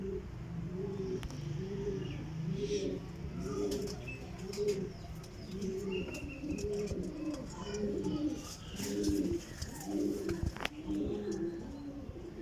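Desi pigeons, a large breeding pair, coo repeatedly in low rhythmic bursts throughout, with occasional chirps and faint background noise.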